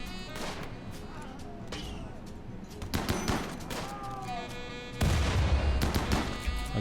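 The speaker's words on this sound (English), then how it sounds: "Let's launch grenades." Grenades launched in the video game RimWorld: a series of muffled thumps and blasts mixed with gunfire, with scattered bursts and one heavier boom near the end, under a speaking voice.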